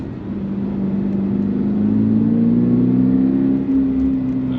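A Toyota GR86 / Subaru BRZ engine, 2022 or later, climbs steadily to higher RPM inside the cabin, a continuous rising drone that holds loud and smooth with no voices over it.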